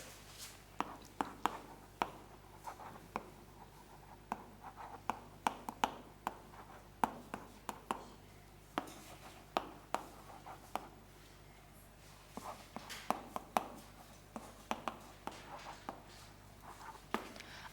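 Writing on a board during an English grammar lesson makes many short, sharp taps and scratches in irregular bursts, close and fairly quiet.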